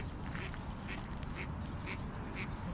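Several ducks quack in short bursts at a moderate distance at a pond in a new park, over a steady low outdoor rumble.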